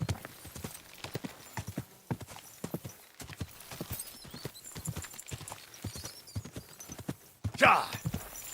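Steady clip-clop of horse hooves trotting in the video game Kingdom Come: Deliverance 2, with a brief whinny-like burst near the end and occasional voices over the rhythmic footfalls.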